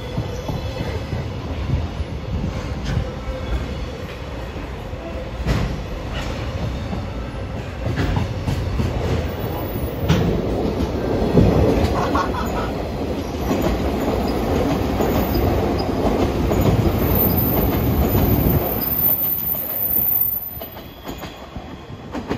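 A JR Freight EH500 electric locomotive hauling container wagons passes through Omiya Station, a loud sustained rumble with rhythmic wheel clatter and occasional squeal that swells mid-pass and fades near the end.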